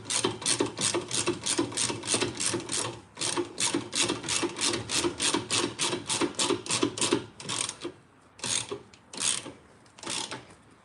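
A ratchet tightens a bolt on a Mark 5 Golf GTI anti-roll bar, with fast, close, rhythmic clicking strokes in long runs that slow into a few separate bursts near the end.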